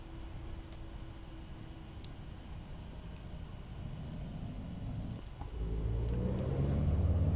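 Dornier Do228 turboprop engine number two starting up: a steady low rumble and whine building gradually, then a louder surge of broadband roar near the end as the engine catches and spools up, heard from close inside the aircraft without talk.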